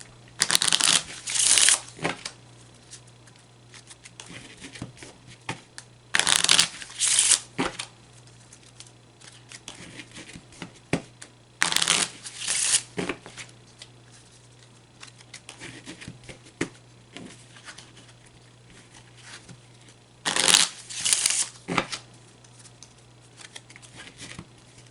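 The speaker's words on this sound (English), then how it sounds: "now I need the table space to shuffle the Lenormand deck in a similar manner" A Lenormand card deck is riffled and shuffled in four quick, crisp bursts, separated by pauses with faint background hum.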